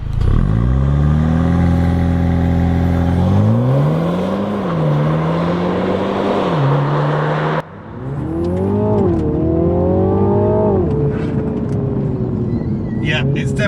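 A 2020 Mini Clubman JCW with 306 horsepower accelerating hard: a loud, strained engine note climbs through the revs, drops sharply at a gear change, then climbs again with a rising drone and some wind noise.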